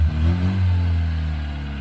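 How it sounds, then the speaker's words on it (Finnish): Carbureted engine of an old Tesla-branded car revving steadily and loudly, a sustained throaty drone that rises slightly and then holds near the listener. "Tämähän kaasuttaa ihan komea."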